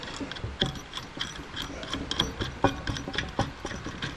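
Ratchet wrench threading a bolt on a Brembo big brake kit for a Z31 300ZX, with quick clicking pawl bursts repeating close up in a quiet garage.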